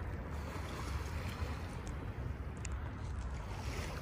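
Gentle waves lapping by the water in a quiet Florida riverside park, a soft continuous wash heard faintly at a distance with light wind and no voices.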